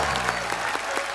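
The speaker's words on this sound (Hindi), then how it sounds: "जोरदार तालियां हो" Studio audience on a television comedy show clapping hard, with a few sharper individual claps standing out from the steady applause.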